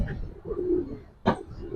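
A Giribaz pigeon coos softly nearby, a low murmuring call, followed by a brief sharper rustle or flutter near the end.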